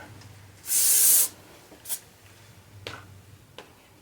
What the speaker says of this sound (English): And then I get my hairspray and spray it so it'll stay in.